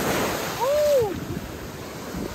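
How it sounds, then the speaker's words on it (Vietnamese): Broadband wash of waves on Tuy Hoa beach in Vietnam at sunset, steady and moderately loud, with a faint brief tonal sweep over the surf. "Mình đang ở bãi biển Tuy Hòa"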